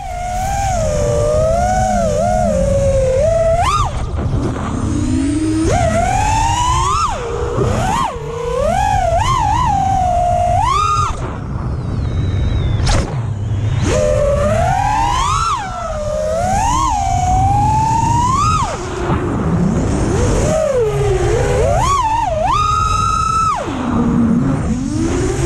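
A FlyWoo freestyle FPV drone in flight, recorded on an onboard GoPro, gives off a loud, continuous motor whine whose pitch sweeps up and down as the throttle changes, with brief dips and surges throughout.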